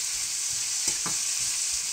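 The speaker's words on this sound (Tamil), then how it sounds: "சுண்டக்காய் வந்து இதுக்கு வந்து நல்லா வதங்கணும்." Chopped turkey berries sizzling in a pan with onion and tomato for a Chettinad-style pachadi. There is a steady, close frying hiss with a few soft stirring scrapes, and no talking.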